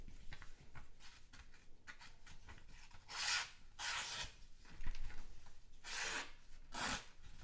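A sharpened knife slicing through a paper return label form, a series of soft, close rasping strokes separated by short pauses, several louder swipes standing out against a quiet background.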